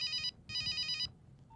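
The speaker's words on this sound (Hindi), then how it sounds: "फोन बज रहा।" Telephone ringing indoors, two bursts of an electronic ringtone separated by a short gap, clear and fairly close, with no talk over it.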